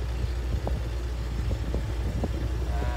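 A boosted Dodge SRT with a ProCharger rolls slowly in reverse at full steering lock, its engine giving a low, steady, subdued rumble with faint knocks and no talking.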